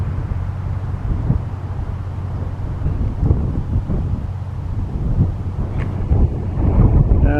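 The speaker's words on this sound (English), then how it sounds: "Got some wind." Strong wind at a mountain overlook buffets the microphone in a continuous low roar, loud and unbroken, with no voices.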